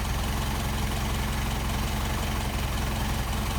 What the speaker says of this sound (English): Idle's starting to drop off again.